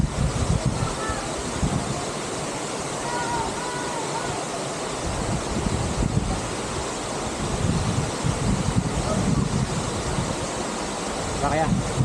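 Hulugan Falls waterfall in Laguna pours with a steady, broad rush of water, loud and continuous throughout, mixed with some wind buffeting at the microphone.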